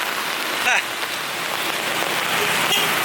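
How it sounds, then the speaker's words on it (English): Steady rain falls and patters on surfaces on a wet day in Barrio Barretto in the Philippines, a constant close hiss throughout with a couple of brief sharp clicks. "So yeah, just a rainy day here in the Philippines."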